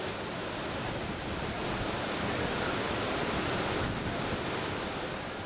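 Kravica waterfall pouring steadily, a dense broadband roar of falling water close by, constant and unbroken with no voices.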